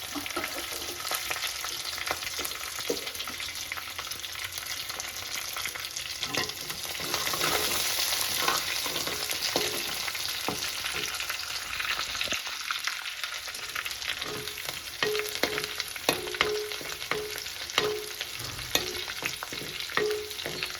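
Steady sizzling of mustard seeds, garlic, curry leaves and dried red chillies frying in hot ghee, with scattered crackles and pops and occasional stirring scrapes, continuous and close by.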